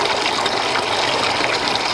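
Running water rinsing fish fillets, a steady, close gushing flow with no pauses and no talk.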